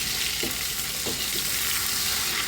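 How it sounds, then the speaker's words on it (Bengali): Pointed gourd frying in oil in a pan over medium heat, a steady bright hiss and crackle throughout, with faint soft knocks of stirring. "এই পটলগুলো এভাবে হালকা মিডিয়াম তাপে আমি ভেজে নেব"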